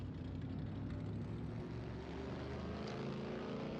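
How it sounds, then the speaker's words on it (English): A EuroNASCAR race car engine at Autodrom Most fills the whole stretch with a loud, steady revving roar, droning continuously without pause or voices. "a revving engine that was not too happy about it"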